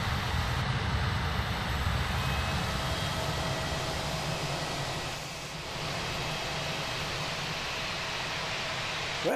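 A steady, loud jet engine roar from an Airbus A320-200 in Microsoft Flight Simulator 2024, broad and continuous, dipping briefly midway before resuming, with no talking.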